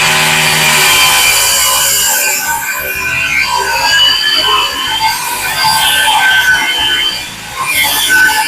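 A power saw cuts through a countertop during a sink and counter installation, a loud continuous whining rasp with shifting pitch that dips briefly near the end.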